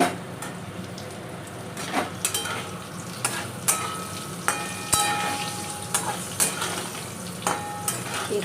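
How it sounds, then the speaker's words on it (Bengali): Potatoes fry in hot oil in a pan for a katla patol curry, a steady soft sizzle broken by repeated clinks and scrapes of a spatula stirring, with no talking. "এবার আলুটা ভাজা ভাজা হবে।"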